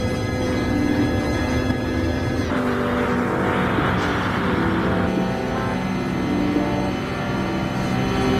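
A Dodge Viper race car's V10 engine roars steadily in GT Sport, a loud sustained drone with shifting pitch, brief tire squeal and skidding, and no talking.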